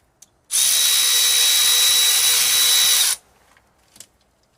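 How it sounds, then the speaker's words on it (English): A power tool whirs in a single loud, steady burst of about two and a half seconds while undoing an E10 bolt on a Vauxhall Corsa coolant flange, with faint clicks before and after. "Now we can get our two bolts out, and they are E10"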